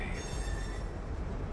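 A moving train in the Remnant 2 video game rumbles steadily, with loud, dense low-end wheel noise and a thin metallic squeal riding over it, continuous for the whole stretch with no voices.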